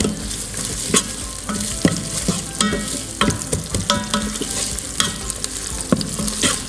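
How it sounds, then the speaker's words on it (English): Chopped onions fry and sizzle in oil inside a hot electric pressure cooker, with repeated stirring clicks and scrapes of a spoon against the pot over a steady crackle. "we start with the onions for them to cook, just to break them and mix with the oil"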